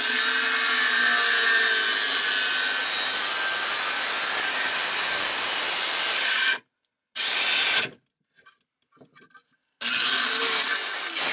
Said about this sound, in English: I'm gonna make a cut here on the copper.